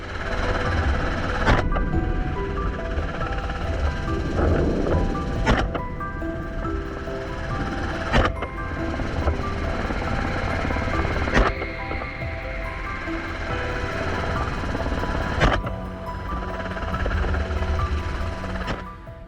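Helicopter carrying hunters over rough, uneven terrain during a wild boar hunt, heard from inside as a steady mechanical rotor drone and rattle, with periodic sharp clicks or knocks breaking the continuous hum.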